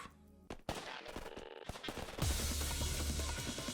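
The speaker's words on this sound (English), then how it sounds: "He hears gunfire from behind." Gunfire erupts from behind in the video game I/O, a sharp burst followed by a sustained loud rattle of shots with a low rumble, close and dense, with no talk over it.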